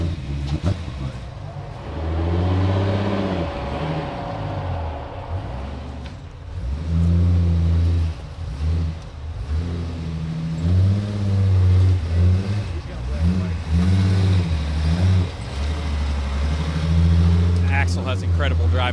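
An off-road rock crawler's engine starts and revs at a rock crawling competition at an off-road park. A loud, deep engine roar rises and falls through most of the stretch, with people talking over it.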